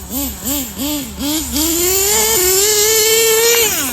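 An HPI Savage 25 nitro RC truck engine revs in quick repeated bursts, then holds a loud, rising high-pitched scream as it accelerates, with a brief dip and a drop at the end.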